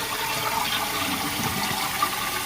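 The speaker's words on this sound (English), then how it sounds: "Seems like it flushes correctly." A toilet flushes and refills after its flapper chain has been shortened, giving a steady broadband rush of running water that holds at an even level throughout, close by and with no voices over it.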